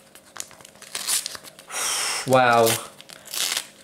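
A FIFA 365 2018 sticker packet is crinkled and torn open up close, with crackling plastic handling and a longer ripping tear, while a person talks briefly.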